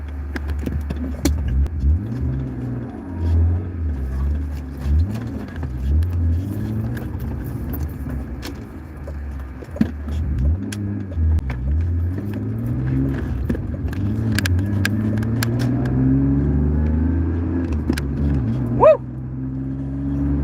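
A BMW with a fuel pump issue driving, its engine a steady low rumble with rising and falling revs throughout, heard from inside the car, with a brief sharp knock near the end.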